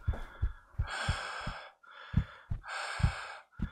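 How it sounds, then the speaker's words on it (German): Heavy, ragged breathing in the horror video game Traumada, loud and close, with alternating gasping inhales and exhales repeating in an uneven rhythm, alone without speech. "Boah, hör auf, so schwer zu atmen."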